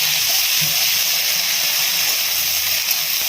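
Steady sizzling hiss of corn frying in butter, continuous and close, with no talking.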